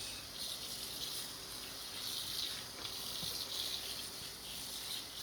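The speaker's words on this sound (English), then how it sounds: "We're going to give this one a good rinse." Running water pours steadily from a tap as a tie-dyed shirt is rinsed under it, a continuous soft hiss and splash without pause, heard fairly close but at low level.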